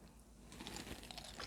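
Whales and Goldfish cheese crackers are crunched by the handful, quiet dry crisp crackles and bites starting after a short pause and continuing in a close, irregular patter.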